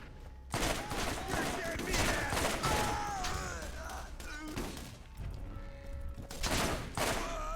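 Rapid bursts of gunfire from the video game Borderlands, loud and close, rattle in repeated volleys with thuds and impacts, while a voice talks intermittently underneath.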